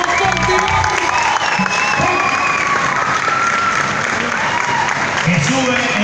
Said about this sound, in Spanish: Fuerte el aplauso para el señor Gerardo Nieto.